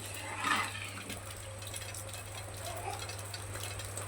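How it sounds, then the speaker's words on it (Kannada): Water poured into a pot of vegetable pulao rice during home cooking, a brief splashing gush near the start that settles into a low, steady wash of liquid with a constant hum underneath. "ಎರಡು ಅಥವಾ ಮೂರು ಗ್ಲಾಸ್ ನೀರು ಹಾಕ್ಕೊಳ್ಳಿ"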